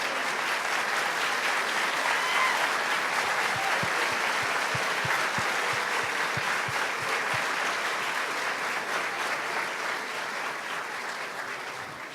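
Sustained applause from a school program audience honoring military veterans, a dense steady wash of many hands clapping that holds for the whole stretch and eases slightly toward the end.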